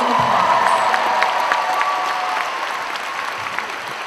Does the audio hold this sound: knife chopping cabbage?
no